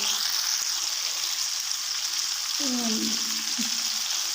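Chicken shashlik sticks frying in a pan give a steady, even sizzle with a brief higher whine partway through, continuous and close.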